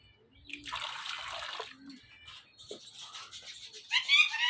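A short pour of water into a ring-necked parakeet's bowl splashes for about a second, followed by quieter trickles and scattered small sounds, with faint chirping near the end.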